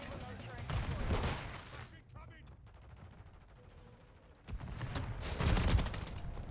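Remote turret fire in a video game: two dense bursts of rapid shots, one at the start and a louder one near the end, separated by a quieter stretch of background game noise.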